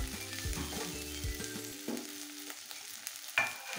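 Chili paste hitting a hot pan of fried peanuts for egg curry, a crackling sizzle with stirring scrapes and bursts, loudest at the start and flaring again near the end.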